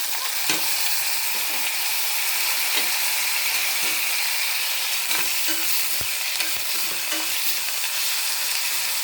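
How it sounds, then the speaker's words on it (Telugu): Onions, tomatoes and curry leaves fry in hot oil with a steady, close hiss, broken by occasional scraping and clacking from a stirring spoon. "ఆనియన్ వేగేయండి ఇప్పుడు టమోటాలు కరివేపాకు వేసేస్తాం"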